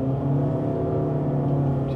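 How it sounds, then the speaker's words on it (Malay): The engine of a Honda CR-V with a CVT roars loudly and steadily as it downshifts, a dense, sustained drone heard close up. "Boleh dengar dia punya enjin tu bising"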